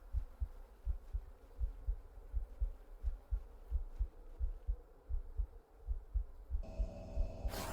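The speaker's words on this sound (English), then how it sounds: "Can you hear that heartbeat in the background there?" A slow, steady heartbeat throbs in the background of The Excavation of Hob's Barrow video game, soft rhythmic double thumps repeating evenly, then a brighter tonal swell rises briefly at the very end.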